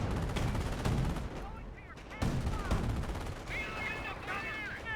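Anti-tank gun fire sounds in a Company of Heroes 1 battle, with sharp repeated shots and bursts over a dense layer of game combat noise.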